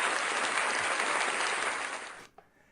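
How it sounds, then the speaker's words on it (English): A crowd applauds steadily and loudly, a dense wash of clapping that fades out abruptly near the end. "Clap louder, I can't hear you."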